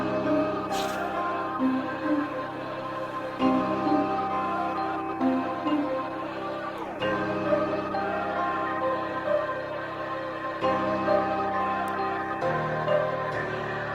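A simple melody built from Arcade samples and run through Toneflx tape saturation plays continuously, with steady harmonic layers, soft percussive hits and mild warmth but no heavy distortion.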